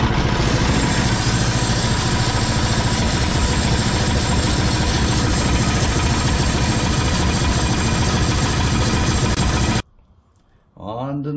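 A Wood-Mizer LT10 sawmill engine runs loud and steady for about ten seconds with a dense mechanical drone, then cuts out abruptly before a voice briefly speaks.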